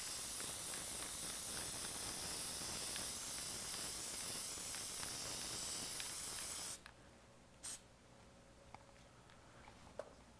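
A spray can hisses in one steady, loud burst lasting several seconds, then cuts off abruptly, followed by quiet room tone with a few light taps and clicks.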